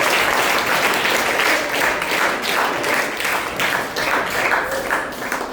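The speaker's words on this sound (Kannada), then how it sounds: "ಇನ್ನೊಂದ್ಸರಿ ಜೋರ ಚಪ್ಪಾಳೆ ಹೊಡೆದಂತೆ" Schoolchildren at a government school program applaud together in a sustained burst of loud, dense clapping that swells and pulses in waves for several seconds, heard close and without talk.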